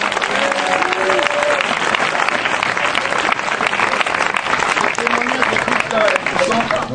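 A worship audience bursts into loud, sustained applause for Jesus, dense and continuous throughout, with voices mixed into the clapping.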